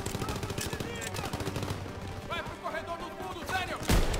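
Rapid gunfire in a World War II first-person shooter campaign, loud close bursts of repeated shots with a sharp blast near the end, someone talking over the action.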